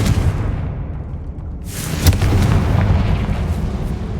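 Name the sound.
Confringo explosive spell blast in Hogwarts Legacy video game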